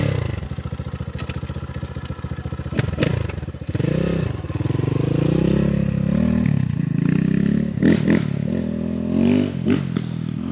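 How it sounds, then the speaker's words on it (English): An X Pro Templar 250 street/trail motorcycle cranks on its electric starter with a rapid chattering whir, catches, and settles into a close, steady idle with some revving and mechanical clatter. "Gotta pull the front lever to get the electric start to work."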